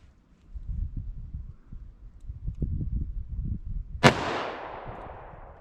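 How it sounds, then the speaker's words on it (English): A single sharp, loud .357 Magnum gunshot from a short-barrel handgun firing Speer Gold Dot ammunition, cracking once at about four seconds and ringing off into a decaying tail, preceded by low rustling and handling noise. "Now let's see how the 357 Magnum compares."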